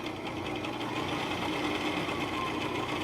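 Sewing machine running steadily while stitching down the side seam and hem of a skirt, a continuous close whirring hum with fast rapid needle rhythm throughout, no pauses.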